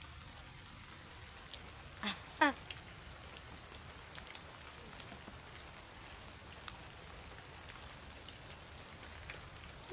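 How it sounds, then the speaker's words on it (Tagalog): Steady outdoor rain with raindrops pattering on umbrellas near a riverbank, a continuous fine hiss broken by a few louder close drips. "Maulan po mga nanay kaya nagpayong-payong po kami oh."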